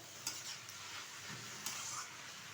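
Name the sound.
stirring jute leaves with prawn heads and spices in pan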